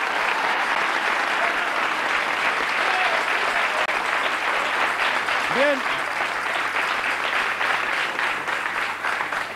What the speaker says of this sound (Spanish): Otro aplauso para él, por favor